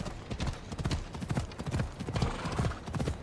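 Horse hooves clip-clop in a quick, steady rhythm in the video game Assassin's Creed Odyssey, close and clear with no talking.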